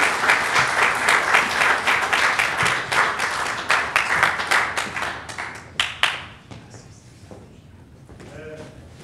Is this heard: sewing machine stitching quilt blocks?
no